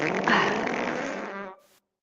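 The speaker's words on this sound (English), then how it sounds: "clipped it and then put fart noises over it." Fart noises dubbed over a clip make one loud, buzzy, sputtering blast lasting about a second and a half that cuts off abruptly.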